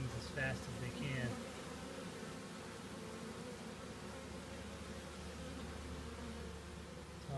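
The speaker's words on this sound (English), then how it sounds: "those bees that are fanning their little wings as fast as they can" A swarm of honeybees fanning their wings makes a dense, unbroken buzzing hum close by, with a few louder passing buzzes near the start.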